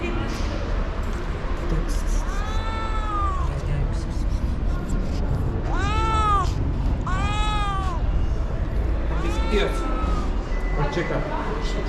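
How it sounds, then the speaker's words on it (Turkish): A cat meows four times, drawn-out rising and falling cries spread across the clip, heard through a busy background with people talking. "Hain kedi. Niye yemedin?"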